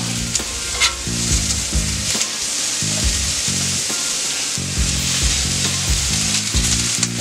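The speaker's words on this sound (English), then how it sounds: "My bell peppers and onions. Ah, they're frying up nicely" Bell peppers and onions fry on a Steelmade flat top grill, giving a steady, dense sizzle with crackling throughout and rhythmic scraping and stirring thuds from a spatula underneath.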